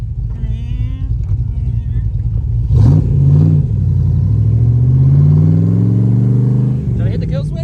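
A Shelby Cobra on a test drive rumbles loudly close by, its deep engine note swelling and revving under the driver's talk.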